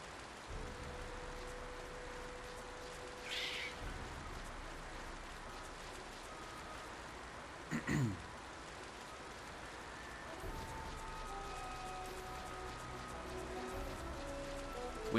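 Rain in the video game Final Fantasy XII falls steadily as a broad, even hiss across the whole stretch, with a few brief louder thumps and tones from the game rising above it.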